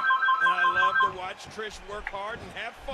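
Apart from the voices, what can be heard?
phone ringing in the background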